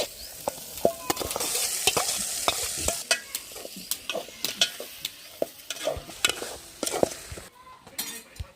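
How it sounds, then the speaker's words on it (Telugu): Chicken pieces frying with chilli powder and turmeric in a pan, a close sizzle under rapid metal clinks and scrapes of a spoon stirring, fairly steady, with no talking. "చికెన్ ముక్కలు వేసుకున్నాం"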